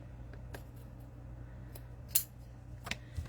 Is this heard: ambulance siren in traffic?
no